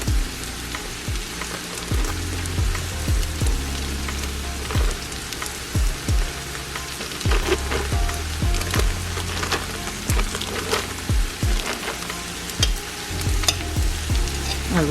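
Cream cheese is worked into a creamy tuna casserole mixture, with repeated close scraping and knocking strokes of a utensil against the pot over a faint sizzle, no talking.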